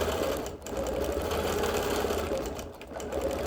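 A sewing machine quilting busy printed fabric runs in a fast, continuous mechanical whir, briefly easing off twice before resuming at full speed, close and alone without talk.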